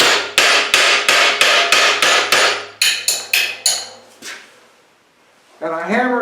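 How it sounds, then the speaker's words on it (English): A hammer pounds steel down onto tapered forging jaws while making a Claydon knot, with a rapid series of about eleven loud, sharp metallic strikes, then a pause and a brief voice at the end. "I hammer it down to where it's on that jaw"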